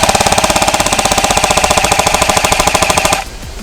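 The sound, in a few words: A&K PKM airsoft electric gun firing full auto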